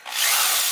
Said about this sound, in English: I'm actually going to drill a pilot hole from the inside up